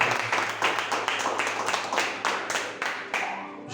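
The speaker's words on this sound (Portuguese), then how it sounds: "Quem puder aplaudir a palavra de Deus," A church congregation claps together in steady, rhythmic applause at a worship service, with many hands close by and a faint room murmur underneath.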